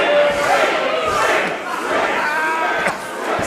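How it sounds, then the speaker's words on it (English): Wrestling event crowd chanting and cheering in unison, a loud, dense mass of voices filling the arena for the whole stretch, with a brief whistle-like tone early on. "Sounds like the crowd are very big Sooty fans here."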